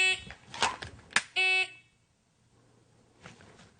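A single steady electronic shot-timer beep sounds during a dry-fire pistol drill with a holster draw, preceded by brief handling clatter and followed by near silence.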